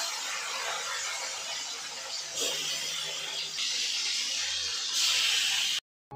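Fish frying in hot oil in a home kitchen, a bright steady sizzle and hiss that swells in stages, growing louder toward the end before cutting off abruptly.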